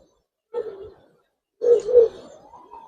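Dobaz pigeons, alongside Giribaz and coloured pigeons, give two soft low coos close to the microphone, a short one followed by a longer rolling one, against otherwise quiet surroundings.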